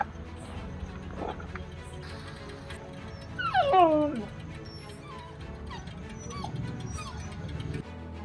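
A dog whimpers and lets out a quick run of high yips, loudest at its middle, with softer whines before and after and a person talking nearby.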